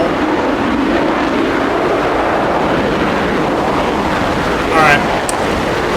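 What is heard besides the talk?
aircraft engine running, from the video game DCS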